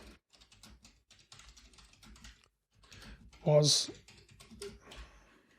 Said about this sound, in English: So I'm going to type the response code